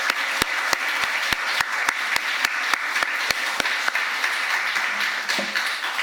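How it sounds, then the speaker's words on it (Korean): Steady applause from a large church congregation at a New Year's Eve service fills the room, with sharp, evenly spaced claps standing out in a rhythm over the broad wash of clapping. "다시 한번 박수로 영광 올려드립니다."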